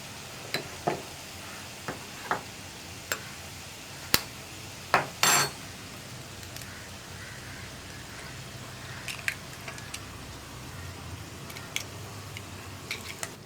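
Eggs frying with chopped spinach in a pan for a Kerala-style cheera mutta thoran, a soft continuous sizzle broken by several sharp scrapes and clinks of a spoon stirring against the pan.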